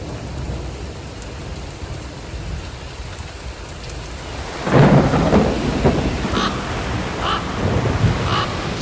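Steady rain falls in Stresa, Italy, on the shore of Lake Maggiore, then a rolling clap of thunder breaks in midway and rumbles on under the downpour.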